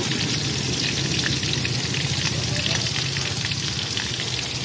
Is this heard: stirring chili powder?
yes